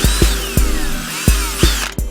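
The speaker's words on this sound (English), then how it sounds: "I want to drill a pilot hole." A power drill bores a pilot hole while a Rough Country steering damper is fitted to a Dodge Ram 4WD truck. Close, loud sharp knocks repeat about every third of a second over a wavering whine, with no talking.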